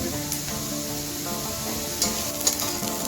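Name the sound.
onion frying in a pan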